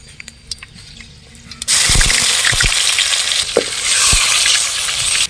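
Mustard seeds and fenugreek drop into hot oil with ginger-garlic paste, starting quietly before a sudden loud sizzle erupts and holds, with small pops and crackles throughout.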